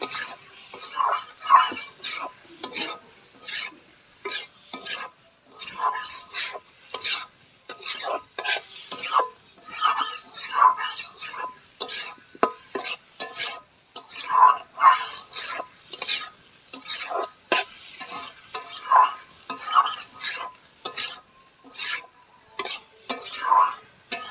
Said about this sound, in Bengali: ভেজে রাখা আলু পুঁই শাক এবার একসাথে কষে নেব